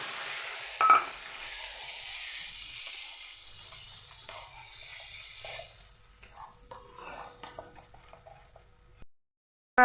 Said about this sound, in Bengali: ভালো করে মশলাটাকে আমি কষবো।